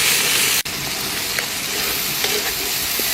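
Milkfish with fermented black beans frying in hot oil makes a loud, dense, continuous sizzle with a sharp click near the start and scattered small pops and stirring scrapes, no voices.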